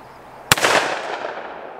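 A single sharp gunshot from a Taurus 66 seven-shot .357 Magnum revolver, loud and close, followed by a brief ringing echo that fades out.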